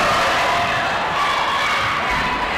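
Volleyball crowd in a school gym cheering on its feet, a steady wash of voices and shouts at moderate level, fairly even with no single standout yell.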